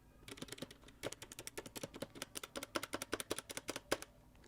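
Rapid typing on a brand-new custom GMMK Pro mechanical keyboard, a steady run of crisp, close keystroke clacks with an uneven rhythm and a few louder thocks, heard alone without talk.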